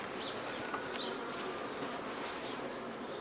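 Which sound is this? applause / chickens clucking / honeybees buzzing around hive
honeybees buzzing around hive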